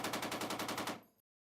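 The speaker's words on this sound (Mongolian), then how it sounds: "Жошуад харагдгаа болоход буун дуу гардаг" Gunfire in the 1997 film Life Is Beautiful: a rapid automatic burst of about a dozen evenly spaced shots, then abrupt silence.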